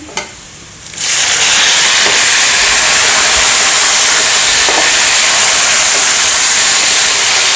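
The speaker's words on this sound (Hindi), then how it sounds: "टमाटर डाल रही हूँ।" Tomatoes drop into hot oil in a pan and burst into a loud, steady sizzle that starts abruptly and keeps hissing strongly throughout.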